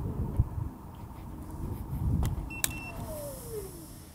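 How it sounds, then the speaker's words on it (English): A $299 electric scooter braking with regenerative brakes: a low rumbling ride noise swells, then a brief electric whine glides downward as it slows, with a sharp click in between and no voices. "Now let's try out the regen and the brakes"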